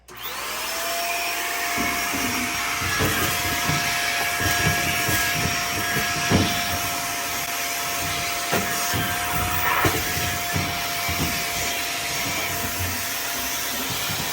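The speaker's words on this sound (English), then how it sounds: "get a good vacuum cleaner attachment and a vacuum" A vacuum cleaner with an attachment cleans out a clothes dryer vent, running steadily with a constant whining motor hum, punctuated by irregular clattering and thumps of debris being sucked up.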